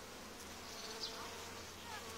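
A bee buzzes indoors, faint and continuous, with a thin wavering drone that drifts slightly as it moves around a quiet room.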